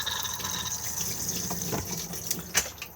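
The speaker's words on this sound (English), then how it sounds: "Open to the cassette just on this lever here, and then press to flush" A cassette toilet flushes inside a 2020 Benimar Mileo 294 motorhome, water rushing steadily into the bowl at close range for several seconds, with a pump-like hiss underneath.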